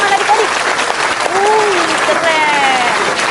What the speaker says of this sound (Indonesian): Keren banget kan Tuhan Yesus, kasih tepuk tangan adik-adik.